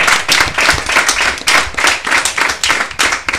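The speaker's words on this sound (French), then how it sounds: "On applaudit" A studio audience claps steadily during an interview, a dense, loud patter of many hands rising and falling in waves throughout.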